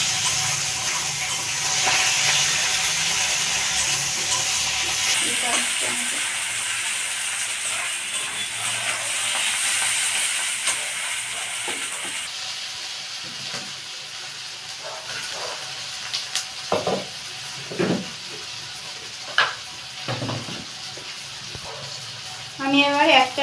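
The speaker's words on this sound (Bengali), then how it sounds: "গোটা রসুনটা দিয়ে দেব। দিয়ে আমি এগুলো ভাজবো।" Ginger and whole garlic cloves sizzling and spitting in hot oil, a steady close hiss with scattered sharp crackles and pops throughout, no talking.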